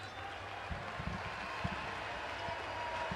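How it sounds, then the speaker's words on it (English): Home crowd in an arena applauding Argentine basketball player Carlos Delfino during a FIBA World Cup qualifier, steady clapping and ovation under a low hum, with faint thuds. "Look at the ovation he's getting from his teammates, his coaches, the legend"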